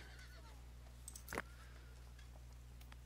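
A horse in the video game Dawn of Man gives a single short whinny over quiet, steady ambience with faint ticking.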